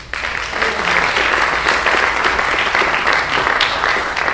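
An audience at a foreign policy panel event applauds KT McFarland, a full, continuous wash of clapping that holds strong across the whole stretch, with no voices over it.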